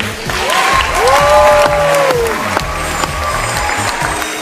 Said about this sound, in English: let's get a big round of applause for Andrew and Tim